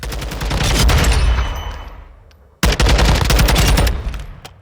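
Mark 16 CQC rifle fired in full bursts in Call of Duty Modern Warfare II, a loud, close, continuous stream of rapid shots that tails off, pauses briefly, then resumes in a second sustained burst.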